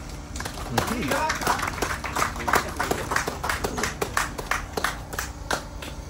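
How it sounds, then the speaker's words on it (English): A room claps for a speaker at the Rupununi Ranchers Rodeo launch in Georgetown, scattered, uneven hand claps from a modest crowd with a voice talking over it, moderately loud and ongoing. "Give him a round of applause"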